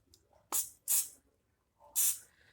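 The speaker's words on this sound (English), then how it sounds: "I'm going to spray the spoon" Three short hissing bursts of an aerosol cooking spray, close up, separated by brief pauses in an otherwise quiet setting.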